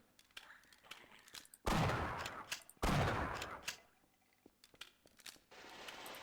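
Two loud, booming shotgun blasts from Half-Life: Source, close and heavy, each with a long decaying tail, separated by lighter clicks and small game noises.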